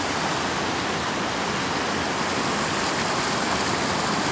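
Water rushes and splashes in a steady, broad hiss, like a stream flowing close by over rocks.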